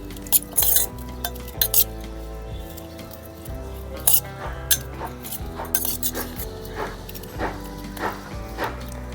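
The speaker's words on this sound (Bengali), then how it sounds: "আর দিচ্ছি অর্ধেক লেবু চিপে। ভালো করে মিক্স করে নেব।" A prawn marinade with squeezed lemon is stirred by hand in a metal bowl, giving repeated close clinks and scrapes of a utensil against the bowl at an uneven rhythm, with no speech.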